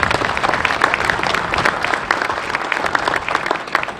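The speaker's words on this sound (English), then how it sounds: "another round of applause for Frank Polivka." An audience applauds for Frank Polivka, longtime general manager, at the debut of Laketran's first battery-operated electric bus; dense, steady clapping from a crowd fills the space loudly and evenly.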